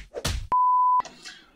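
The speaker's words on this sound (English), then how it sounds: "That was my phone's notification," A single loud, steady electronic beep from a phone notification lasting about half a second, clean and sustained at one pitch, with faint background noise before and after.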